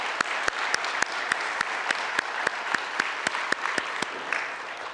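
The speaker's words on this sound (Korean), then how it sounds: "하나님 앞에 감사의 박수 올려드리겠습니다." A congregation at Bethany Church's Sunday service claps in thanks, a loud, continuous roar of hands with one close clapper keeping a sharp, evenly spaced beat on top throughout.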